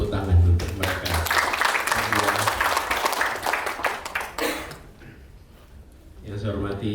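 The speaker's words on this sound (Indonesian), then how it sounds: "Boleh kita beri tepuk tangan untuk mereka." Applause from an audience at a book launch, a burst of clapping for several seconds that dies away into quiet, with a voice speaking at the start and end.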